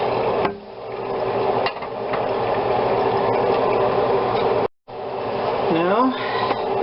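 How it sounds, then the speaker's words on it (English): Grease being drained from browned ground beef for an almond celery bake: a continuous wet, rushing pour with a couple of pan knocks and a brief gap, close and fairly loud. "once your ground beef has been browned, we're going to want to drain that"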